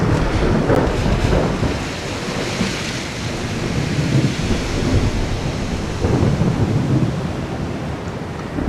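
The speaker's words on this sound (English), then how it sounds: "Heavy, heavy rain." Heavy, steady rain in a video game pours continuously with a dense roar and low rumbling underneath, loud and unbroken throughout.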